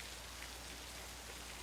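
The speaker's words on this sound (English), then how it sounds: "Sorry I didn't hear you in all this rain." Steady heavy rain pours down at night in the 1960 film Psycho, a dense, even hiss running unbroken at moderate level throughout.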